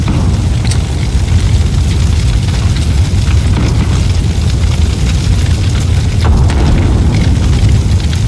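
A mine in a team deathmatch shooter on a sawmill map sets off a loud, sustained rumbling boom, a dense low roar that fills the whole stretch with a few sharp crackles on top.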